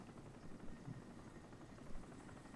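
Helicopter in the video game Crysis, a low rumbling rotor drone heard at a distance, faint and steady with slight swells, no voices over it.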